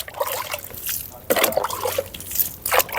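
Water trickles and splashes from a tank onto soil around pea seedlings in a home garden, a steady, close dribble with brief louder pours.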